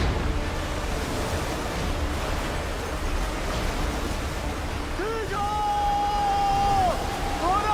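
Flood water roars into a mine in a rescue film scene, a steady loud rushing wash with a thin whining tone rising near the end.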